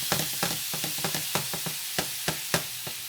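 Toast frying in a pan for a baked lasagna appetizer, a steady hiss with a series of sharp, irregular crackles and pops, close and fairly loud, no talking.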